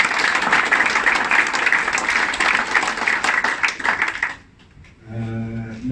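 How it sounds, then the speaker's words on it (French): A crowd applauds journalists at an evening gathering in Madagascar, with dense, steady clapping for about four seconds that then cuts off, followed by a faint tonal sound. "Merci à vous, on peut les applaudir également."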